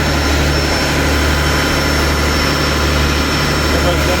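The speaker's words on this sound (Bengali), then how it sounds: "এই হচ্ছে অভিযান 10-এর ইঞ্জিন রুম।" A six-cylinder engine runs in the engine room of the passenger launch Abhijan 10, a loud, close, steady low drone with a constant mechanical hum throughout.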